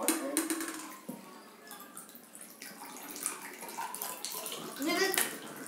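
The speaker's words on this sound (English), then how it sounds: "Okay, pour the water." Water is poured into drinking glasses for a children's water-drinking challenge, splashing and trickling in uneven bursts while kids talk nearby.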